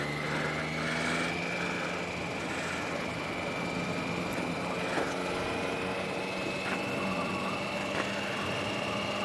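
A motorcycle cruising steadily with a passenger on the back, its engine a constant droning hum with a sustained whine, close and continuous throughout with no talk.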